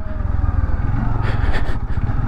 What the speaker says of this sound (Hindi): बाइक यहाँ पे बहुत ही स्लिप मार रही है, 2 बार तो गिरते गिरते बची है।